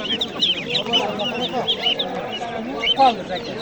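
Poultry and small caged birds at a busy bird market, with repeated sharp chirps and cheeps over a constant background of clucking and crowd noise, fairly close and loud.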